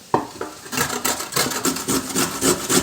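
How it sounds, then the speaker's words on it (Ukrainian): Coarse rhythmic scraping strokes of a carrot being grated on a coarse grater, close and fairly loud, starting with a couple of isolated scrapes then settling into steady repeated rasps. "натру моркву на велику терку"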